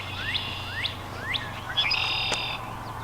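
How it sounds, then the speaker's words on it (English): A northern cardinal sings outdoors on a hiking trail, giving several clear rising whistled notes followed by a longer trilled phrase. The song is moderately loud and carries over a low steady background hum. "We got the cardinal."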